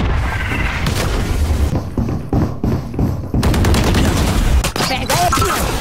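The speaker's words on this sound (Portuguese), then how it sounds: "Granada!" Grenade blasts and rapid gunfire in the tactical shooter Valorant, loud, dense bursts with brief gaps, close and cluttered with overlapping shots.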